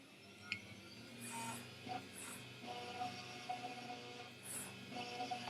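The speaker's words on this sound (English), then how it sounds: "that will tell the machine to start milling" A desktop milling machine in a fab lab cuts into a copper circuit board, giving a faint, steady mechanical whir with thin high whines and short hissy bursts of cutting noise throughout.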